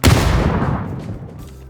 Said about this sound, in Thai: มันเห็นเรานะ มันระเบิดใส่เรานะ